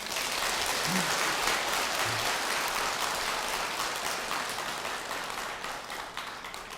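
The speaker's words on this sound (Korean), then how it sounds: "박수 한번 보내주세요." Steady audience applause fills a hall after a Buddhist monk's dharma talk, dense and even clapping continuing throughout at moderate distance, with no voices over it.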